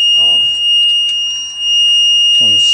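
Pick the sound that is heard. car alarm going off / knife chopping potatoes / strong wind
car alarm going off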